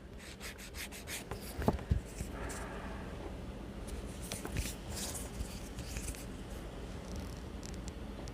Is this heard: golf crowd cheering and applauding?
no